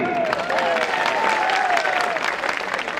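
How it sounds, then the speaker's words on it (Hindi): A mushaira audience claps steadily at a poetry gathering, dense applause running the whole time with a voice half-heard over the clapping. "अरे यार एक बार बजा दो ताली।"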